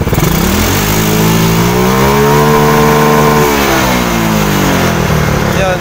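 A motorcycle engine fitted with a new programmable CDI revs hard toward 9,000 RPM, loud and close, its pitch sweeping up and then falling back over several seconds of continuous roar with no talking.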